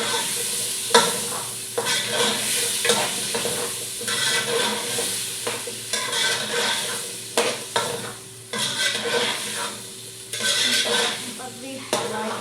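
Chicken pieces and potatoes stirred and frying together in a pot, with steady sizzling and scraping, clattering spoon strokes against the metal, continuous and close.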